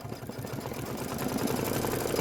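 An embroidery machine stitches a Kimberbell candy corn quilt block, a close, steady mechanical whir with a fast rhythmic stitching pulse.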